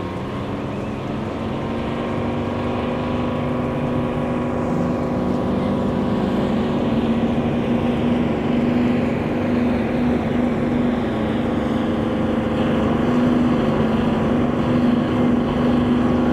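A preserved Deltic diesel locomotive engine runs at full throttle, a loud, steady, droning roar with a strong low hum that holds unbroken for the whole stretch, close by and without talk.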